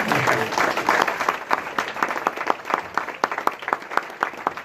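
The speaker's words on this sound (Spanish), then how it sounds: "Es un aplauso al Señor." Church congregation claps for several seconds, a moderately loud crowd applause that thins into distinct, sharper individual claps toward the end, with some voices underneath.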